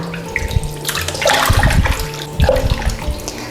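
Water splashes and gurgles as it is poured out of a container of catfish being cleaned with alum, with sloshing surges and some clattering, close by and fairly loud.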